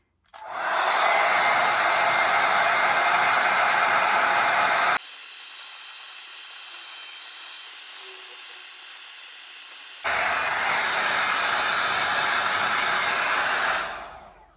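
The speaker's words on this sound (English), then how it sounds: "So this is actually pretty good for a hairdryer." A hair dryer brush blows on high with a loud, steady rushing hiss, shifting tone partway through as if the airflow changes, then stopping abruptly.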